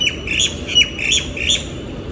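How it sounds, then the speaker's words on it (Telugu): Birds near a balcony give four loud, sharp squawks at a steady pace, with no voices over them. "విత్ బర్డ్ సౌండ్స్ అసలు బాల్కనీలోకి వస్తే ఎంత ప్రశాంతంగా ఉంటుందో"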